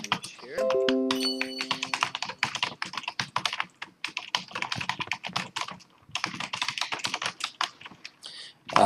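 Fast typing on a computer keyboard, a dense run of close, sharp key clicks with brief pauses and a short chime near the start, while a person speaks over parts of it.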